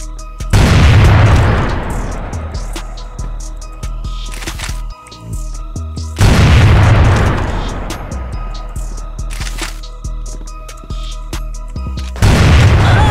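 Grenade explosions in a tactical shooter video game: three loud, booming blasts at roughly regular intervals, each a sharp burst decaying into a rumbling tail, with faint gameplay sounds between.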